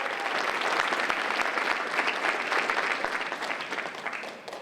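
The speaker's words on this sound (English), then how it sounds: "give your parents and loved ones a round of applause" Steady, loud applause from a graduation ceremony audience at a college commencement, dense clapping filling the hall throughout before slowly tapering near the end.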